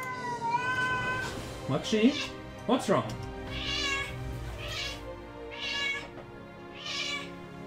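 A cat meows several times in drawn-out, plaintive calls close by, some rising into a wail, while someone speaks over and between the cries.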